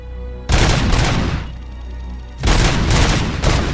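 Gunfire in the video game RoboCop: Rogue City, two loud close bursts of rapid shots, each lasting about a second, with a short quiet gap between them.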